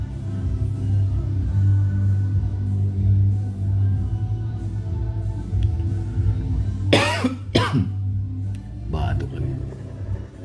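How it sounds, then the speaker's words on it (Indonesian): A man coughs twice in quick succession, then once more a moment later, each a loud, rough burst close to the microphone, set against a low steady hum and faint background noise. "Batuk lagi."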